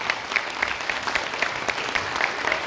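An audience at a dance group's anniversary show claps steadily throughout, a dense and fairly loud round of applause with no voices rising above it.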